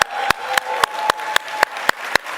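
Clapping at a national Arab American convention sounds as sharp, evenly spaced rhythmic beats over a dense wash of crowd noise and a faint steady tone.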